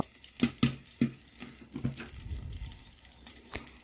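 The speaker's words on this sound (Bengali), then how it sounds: "দেখুন, ভুট্টা ফোটা একদম কমপ্লিট হয়ে আসছে।" Corn kernels popping in a hot pan on a gas stove, a scattering of sharp irregular pops tapering off, with a steady high hiss of heat and oil behind them.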